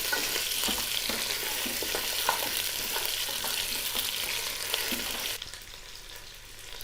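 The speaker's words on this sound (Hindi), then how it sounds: "इसे अच्छे से मिक्स करेंगे। थोड़ी इसकी भुनाई करेंगे।" Steady sizzling and crackling of mutton frying in a pot, with occasional stirring scrapes; the sizzle drops a little near the end.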